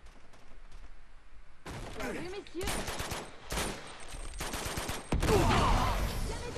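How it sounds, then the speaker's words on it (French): Gunfire in the video game Uncharted 2 as a lock is shot open, with several loud sharp bursts of shots clustered in the second half, layered over game sounds and a voice talking. "dès qu'il flingue la serrure"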